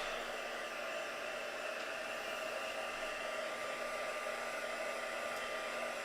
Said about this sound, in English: Now I'm just going to quickly dry this with the heat tool.